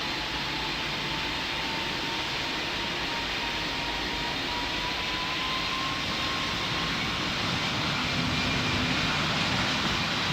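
Airliner taking off in the video game Pilot Training Flight Simulator: a loud, continuous jet engine roar with a faint rising whine, building slightly toward the end, with no voices.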